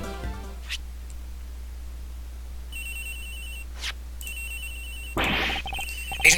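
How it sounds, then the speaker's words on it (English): A mobile phone rings in Ace Attorney Investigations with repeated electronic trilling bursts over a low background hum, separated by brief pauses, and a louder clatter comes near the end. "Agent Hicks's phone, it's ringing from somewhere,"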